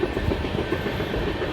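An Indian Railways train rolls past during a crossing with the Samta Superfast near Arang and the Mahanadi, giving a steady, close rumble with rhythmic clickety-clack of wheels on rail joints throughout, with no voices.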